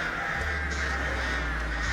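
Crows cawing in the Dead by Daylight game as The Artist's birds sweep past, harsh repeated caws over a steady droning game soundscape with a low hum underneath.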